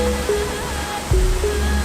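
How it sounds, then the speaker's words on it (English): Waterfall on the Rio Agrio in Costa Rica, a strong current pouring into a shallow rough pool, heard as a brief steady roar of rushing water with no voices. "So Rio Agrio, beautiful waterfall here."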